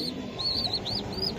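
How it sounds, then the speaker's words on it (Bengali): Racer pigeons in a loft give several short, thin chirping calls in a quick series over a faint background murmur. "ভাইয়া এই যে একটা কবুতর আমি দেখাই"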